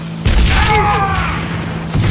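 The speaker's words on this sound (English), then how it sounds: "Dynamite!" A dynamite blast in the Western shooter game Call of Juarez: Gunslinger, set at a sawmill, lands as a loud, sudden boom followed by a roaring, rumbling decay with ringing debris. A brief voice is heard at the start.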